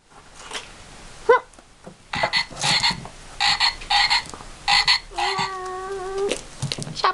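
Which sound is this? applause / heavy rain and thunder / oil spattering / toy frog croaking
toy frog croaking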